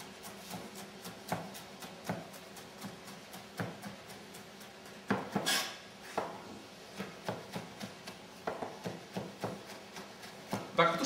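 Knife chopping boiled potatoes on a board for a Turkish salad, a rapid series of sharp, close taps in uneven bursts with a brief scraping sweep midway.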